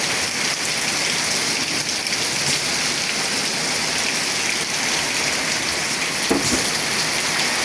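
Heavy rain pours steadily at Baradi market, a dense, continuous hiss of drops on surfaces with wind, broken by a brief knock near the end.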